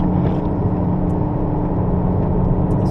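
Ferrari California engine pulling hard on the Rockingham track, a steady loud drone with a dense low rumble and whir, heard from inside the car with no talk.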